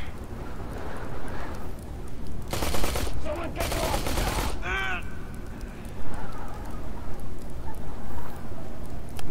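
Gunfire in the video game Aliens: Colonial Marines, with a couple of dense, loud bursts of rapid shots over about two seconds, plus a rumbling game background and a voice at times.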